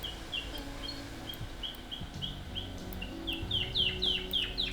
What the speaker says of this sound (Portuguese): Então tem passarinho de fundo também, né?